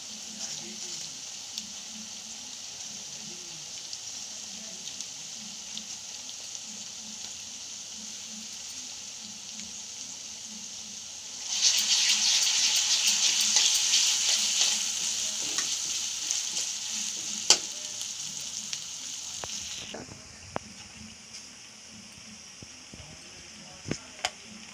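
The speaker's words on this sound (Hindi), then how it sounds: "अब इसमें मैं अदरक लहसुन पेस्ट डाल रही हूँ।" Ginger garlic paste frying in a pan for pav bhaji: a low background sizzle grows into a loud, bright crackling burst midway, then drops back to a quieter sizzle with occasional clicks.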